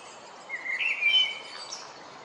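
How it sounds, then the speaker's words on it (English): A male blackbird sings overhead in a short, faint warbling phrase of fluting notes, rising and falling against quiet woodland background. "I'm being serenaded by this beautiful male blackbird singing away just above me there"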